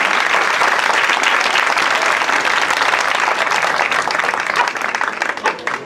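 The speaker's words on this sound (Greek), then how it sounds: "Ευχαριστώ πολύ για το χειροκρότημα" An audience at a traditional Greek folk music event from Kythnos breaks into loud, sustained applause, a thick continuous roar of clapping that thins out into scattered claps near the end.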